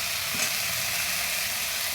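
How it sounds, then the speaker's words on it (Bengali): Pointed gourd frying in oil in a pan, a steady close hiss and sizzle with faint stirring scrapes, continuous and even throughout. "পটলটাকে ভালো করে ভেজে নেব"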